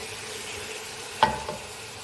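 Onions frying in oil make a quiet, steady sizzle, broken by a brief sharp clink and a softer knock near the middle.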